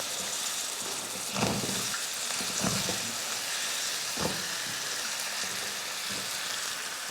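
Chopped brinjal sizzles and fries in a hot pan, a steady bright crackling hiss with a few louder bursts as the pieces are stirred, close and continuous throughout.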